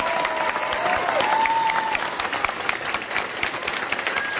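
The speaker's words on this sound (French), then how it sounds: "Applaudissez, s'il vous plaît." A conference audience claps steadily, dense applause from a sizable crowd that holds strong throughout, with no one speaking.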